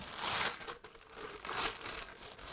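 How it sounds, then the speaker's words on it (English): A plastic bag rustles and crinkles close by as an antler wall sculpture is pulled free, two louder bursts of crinkling with a short pause between them. "pull it out of the plastic bag and carefully grab it"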